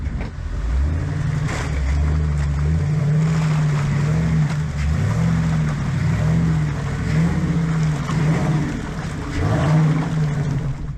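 A Suzuki buggy's engine drones and revs in a steady wavering pattern as it churns through deep mud on a Pacific Northwest trail, loud and close throughout.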